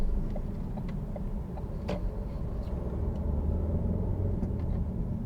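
A manual car pulling away from a stop as the clutch comes up with a little gas, a steady low engine rumble heard from inside the cabin, with faint clicks and no talking.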